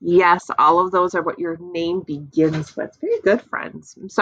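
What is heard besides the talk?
None of the usual background noises is heard.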